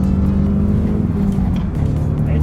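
A Scion tC with its engine under throttle gives a steady, loud, droning hum heard from inside the car, holding level with no pauses and no talk.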